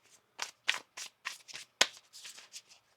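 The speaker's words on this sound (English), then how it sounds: "One more shuffle here." Tarot cards are shuffled by hand in quick, crisp riffling bursts, about eight short flutters in a steady rhythm, close and clear with no talk.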